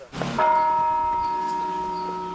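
A church bell at the Church of Saint Mary Magdalene in Avdiivka rings out at a funeral farewell, one loud, clear strike whose tone hangs and slowly decays.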